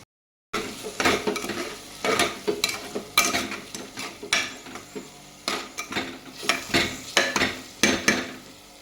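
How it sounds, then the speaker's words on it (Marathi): Tomato masala with red chilli powder, turmeric and Everest masala being sautéed in a pan, a spoon scraping and stirring in brisk, repeated strokes over a sizzling base, close and fairly loud. "आता यामध्ये 2 चमचे एव्हरेस्ट मसाला, 2 चमचे लाल मिरची पावडर आणि अर्धा चमचा हळद घालून छान प्रकारे मसाला परतून घेऊया"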